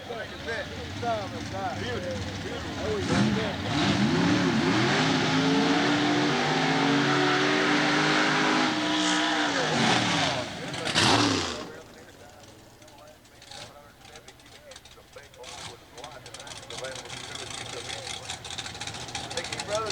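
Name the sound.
1963 Chevrolet Corvette split window race car engine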